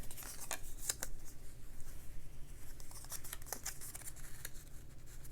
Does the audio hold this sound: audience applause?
no